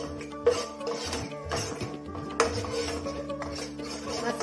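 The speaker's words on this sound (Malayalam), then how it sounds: "ഇനി നമുക്ക് ഈ മസാലകളെല്ലാം കൂടി നല്ലതുപോലെ ഒന്ന് വറുത്തെടുക്കാം." A spoon scrapes and clinks against a pan as ground spices are stirred and roasted over a low flame for makhana masala fry, with short metallic taps breaking a soft rustling scrape.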